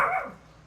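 A single short yappy bark from a small dog, fairly close, fading quickly into quiet room tone.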